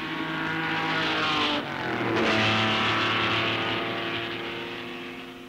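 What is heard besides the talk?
Ferrari and other race cars at 1963 Sebring 12 Hours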